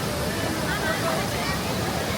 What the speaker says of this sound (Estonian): Praegu kõnnime vees.